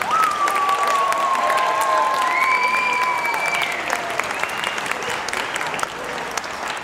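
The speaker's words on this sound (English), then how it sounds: "Let's give one more round of applause for the Middle School Jazz Band." Steady, dense applause from a concert audience honoring a middle school jazz band at a winter band concert, sustained throughout with faint scattered cheers and whistles over the clapping.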